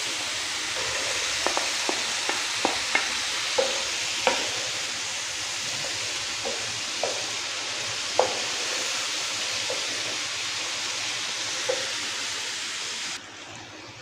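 Chicken pieces fry in melted butter in a pan for a lemon garlic chicken dish, giving a steady broad sizzle with scattered pops and light utensil taps, close by and without talk.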